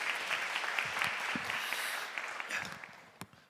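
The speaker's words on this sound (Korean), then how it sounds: "박수로 환영해 주시면 감사하겠습니다." A congregation applauds to welcome a pastor at a church anniversary service for a gospel broadcaster, warm even clapping from a roomful of people that fades out over the last second.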